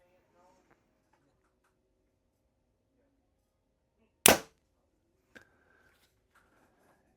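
A Hoyt Enduro compound bow set at 70 pounds draw weight fires a single sharp, loud release snap midway through an otherwise quiet stretch, followed by a faint arrow impact or tick a moment later.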